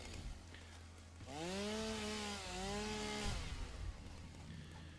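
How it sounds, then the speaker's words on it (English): A chainsaw in the game Satisfactory revs up and cuts steadily for about two seconds, its rising whine loud over a constant background hum, then winds down. "technically speaking, I can't get rid of that unless I use my chainsaw"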